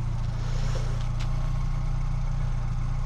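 A 1999 Fiat Seicento petrol engine idles with a steady, low, throbbing hum heard up close, even and unbroken throughout.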